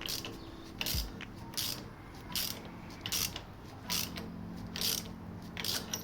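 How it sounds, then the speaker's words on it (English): A wrench tightens a brake pipe union on a Vauxhall Agila, giving repeated short metallic ratcheting bursts in an irregular rhythm, close by with no talk. "And we just tighten that up. Tighten that up all the way."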